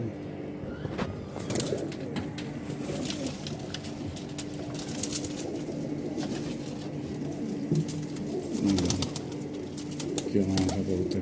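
Madrasi pigeons coo softly in low repeated calls, with someone talking over them and the rustle of handling nearby.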